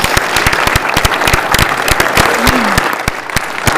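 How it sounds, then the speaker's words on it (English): Applause from a county commissioners' meeting audience honoring a group of girls, steady dense clapping throughout with a brief murmur of voices underneath. "just one more round of applause for these wonderful ladies"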